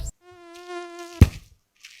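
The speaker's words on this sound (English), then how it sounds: "Mosquitoes out!" A mosquito's thin, whining buzz sounds close and steady for about a second, then ends abruptly in a sharp thump. A faint hiss follows.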